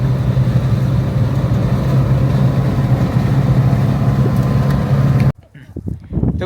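A Japanese four-wheel-drive car driving in Kazbegi, Georgia, gives a loud, steady cabin drone of engine and road noise with wind buffeting, then the sound cuts abruptly to near quiet.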